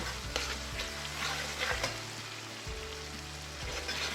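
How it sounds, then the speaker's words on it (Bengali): Garlic and ginger paste sautés in a hot pan, a steady close sizzle with repeated scraping stirs, and no voices. "দিয়ে দিলাম একটু রসুন বাটা আর একটুখানি আদা সব কিছু দিয়ে একসাথে আমি কষিয়ে নেব"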